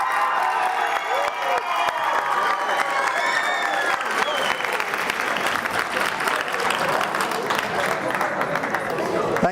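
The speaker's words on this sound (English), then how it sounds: "Now I want all of you on your feet and I want you to applaud your family, friends and teachers." A graduation audience at a high school stands and applauds, with dense, loud clapping and cheering from a large crowd filling the whole stretch, shouts and voices mixed in.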